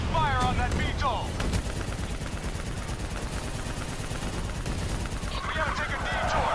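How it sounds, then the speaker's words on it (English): Heavy gunfire in Call of Duty: Black Ops III pours at a VTOL aircraft, a dense continuous barrage of shots and explosions, loud and sustained throughout, with shouted voices cutting in near the start and end. "Keep fire on that VTOL!"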